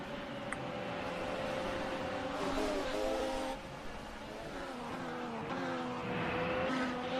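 Race car engine in a racing video game during an ARS Season 2 Japanese Grand Prix race, a steady, loud droning roar with shifting pitch as the car accelerates and slows, and brief tire squeal mixed in.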